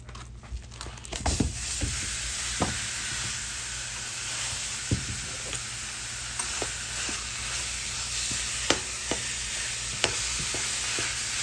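Two pounds of ground beef sizzle in a wok with a steady, moderately close hiss, punctuated every second or two by brief stirring scrapes and clicks.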